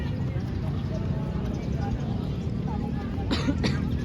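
A couple of short coughs near the end, over a steady background of noisy room murmur.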